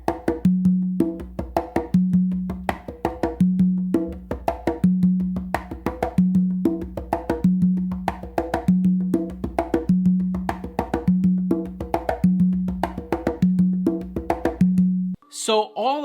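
Songo groove with frequent sharp slaps played on three congas, a steady repeating pattern of crisp hand strikes over low tones, loud and close, ending abruptly with a brief burst of something else at the very end.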